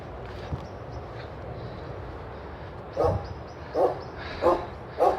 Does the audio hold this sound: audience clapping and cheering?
no